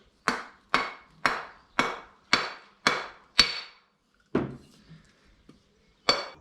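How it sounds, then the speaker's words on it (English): Hammer strikes land on car radiator hose fittings: seven evenly spaced sharp blows at close range, then a pause, one more hit, a few faint clinks, and a final strike, with no talk. "I need a hammer, I think."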